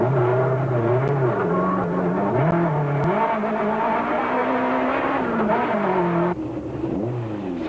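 A Nissan Sentra rally car on a gravel stage, its engine revving and wailing through shifting pitches as the car slides and scrabbles, loud and close, ending with a sudden drop in engine note.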